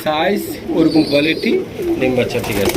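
Pigeons coo repeatedly at a busy pigeon market, soft throaty calls close by, mixed in under people talking.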